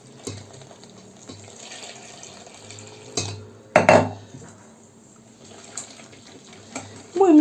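Water is poured into flour and mixed for baghrir batter in a bowl. Clinks of utensils against the dish and a short splash are heard alongside a speaking voice.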